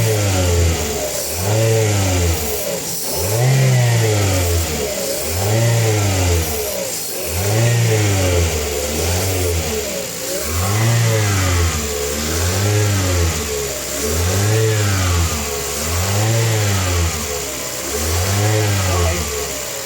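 A Mitsubishi Xpander engine revs repeatedly while cleaning spray is fed in, surging and falling back in a steady rhythm of about ten close, loud pulses over a constant idle, with no talking.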